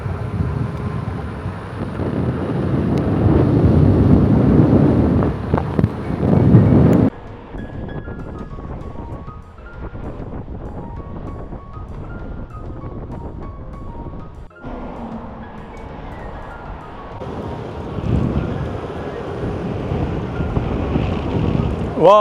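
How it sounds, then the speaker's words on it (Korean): Strong sea wind buffets the microphone near Incheon Bridge, a loud rumbling roar at first that drops to lighter gusty noise, then swells again. "그 바닷바람이 되게 심하네요"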